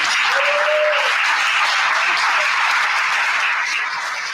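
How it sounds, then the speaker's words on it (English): A crowd applauds with dense, sustained clapping, a brief cheer rising early, the sound fading slightly toward the end. "Please give her a big applause."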